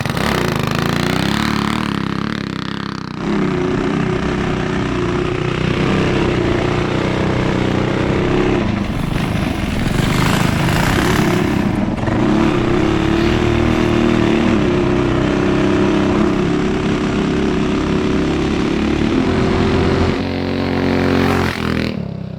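A TrailMaster MB-200 minibike runs a lap at speed, its small engine buzzing loudly and continuously with rising and falling revs and brief throttle changes. There is no talk over it.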